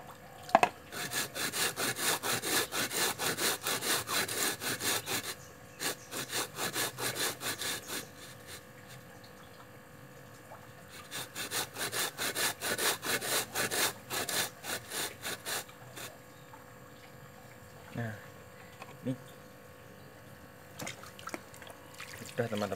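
Two bricks rubbed together with water, producing gritty, rhythmic back-and-forth scraping in long, close bursts separated by pauses, with a few wet taps and knocks near the end.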